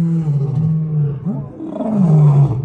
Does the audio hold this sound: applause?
no